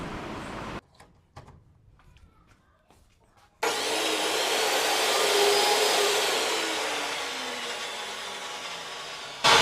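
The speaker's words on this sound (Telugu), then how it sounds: "ఒకసారి మిషన్ ప్లగ్ పెట్టి చెక్ చేద్దాము." An electric cloth cutting machine starts up after some quiet handling noises, then runs with a loud, steady high whine and broad motor hiss that swells slightly and holds for several seconds.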